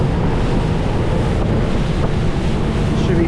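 A 2017 Key West 239FS center console boat runs at speed around 42 mph, with steady loud rushing wind buffeting and water noise throughout, no talk.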